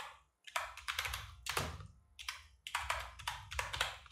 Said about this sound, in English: So I'm going to type After Effects.